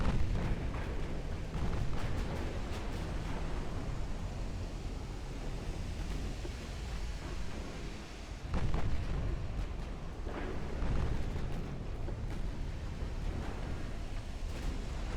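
A torpedo launch in the naval combat game Ultimate Admiral Dreadnoughts, with a British 1910 fleet, heard as a broad, steady roar of sea wash and rumbling fire. A heavier burst rises near the middle.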